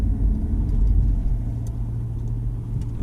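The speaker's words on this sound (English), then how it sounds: "That's quite a big speed bump." A car driving over a large speed bump, low engine rumble and road noise from inside the vehicle with a soft thump of the suspension, no talk.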